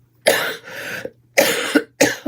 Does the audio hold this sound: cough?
yes